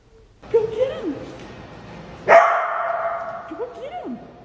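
A dog barks a few times close by, short sharp yaps with a louder burst midway, while people talk around it.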